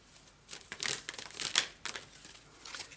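Tarot cards shuffled and drawn from a deck: close, crisp rustling and flicking bursts with a few sharper snaps, rising and falling irregularly.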